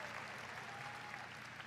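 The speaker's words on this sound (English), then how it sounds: "they were definitely late to that clap" A Google I/O keynote audience claps in a sustained, fairly faint patter of applause from a large crowd.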